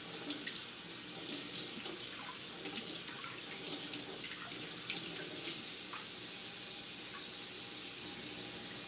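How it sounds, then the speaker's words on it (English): A tap runs steadily into a sink while a container is rinsed out, giving a continuous, even hiss of flowing water with faint splashes, close by and without speech. "I'm just going to rinse this out."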